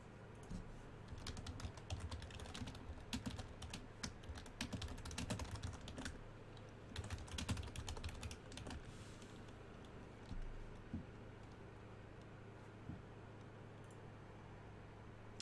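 Fingers clatter on a computer keyboard in bursts of rapid keystrokes while a message is typed, close but quiet, easing into sparse clicks toward the end, with no voices.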